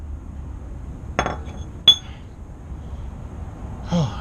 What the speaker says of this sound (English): So let me keep hammering and see if I can get this damn key to fall out.